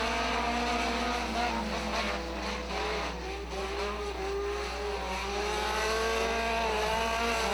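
Front-wheel-drive race cars circling Hattiesburg Speedway, a continuous loud roar of several engines revving and droning together, with rising and falling pitches as the field passes.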